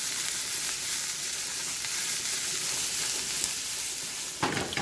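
Steady, close sizzling of onions frying in hot oil, a continuous crackling hiss with a brief stirring clatter near the end.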